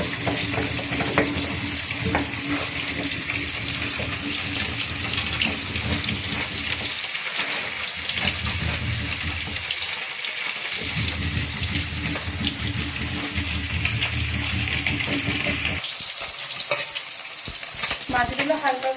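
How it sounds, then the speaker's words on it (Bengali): Hilsa fish pieces frying in a kadai for shorshe ilish, a loud continuous rain-like sizzle of hot oil that carries on steadily, dipping briefly a few times, with no talk. "এই যে সরষে ইলিশ বানানোর জন্য মাছগুলো আমি ভাজতে দিয়ে দিয়েছি কড়াই।"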